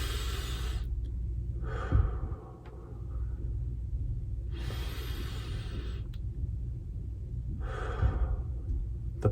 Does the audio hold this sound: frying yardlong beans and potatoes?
no